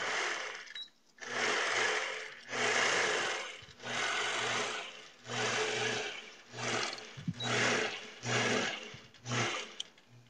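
A longarm quilting machine stitches a houndstooth quilt in a steady series of close, loud whirring runs, each lasting about a second, separated by short pauses, with no talking.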